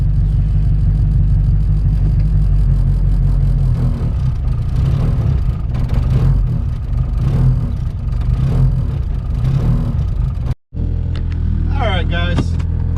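A Honda Civic idles roughly after an E85 cold start in snow, a loud, close, continuous low rumble with uneven pulses, a brief dropout near the end followed by a faint voice over the running engine.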